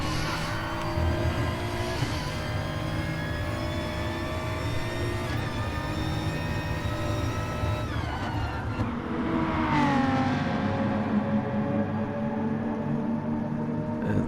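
Turbocharged BMW GT4 race car in a video game race, engine revving hard and continuously at high pitch, with shifts and passing cars audible throughout, no talk.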